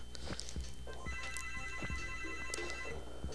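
Electronic phone ringtone chirping in a repeating melodic pattern over a low background hum, fairly faint, with no one speaking.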